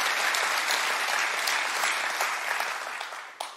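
Steady, dense applause from a comedy audience fills the room, loud and continuous before thinning slightly in the final moments.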